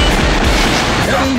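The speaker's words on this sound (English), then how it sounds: "Heavy machine gun." A heavy machine gun in Metal Slug 6 rattles out a loud, dense stream of rapid shots with no break, over a short burst of arcade action and a spoken voice.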